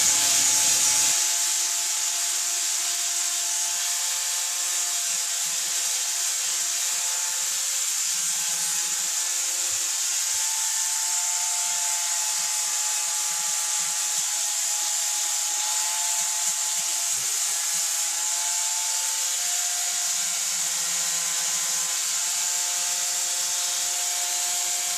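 A power grinder grinds down welds on a Triumph Bonneville motorcycle frame project, a steady, loud, continuous abrasive whine that runs unbroken for the whole stretch with no talking.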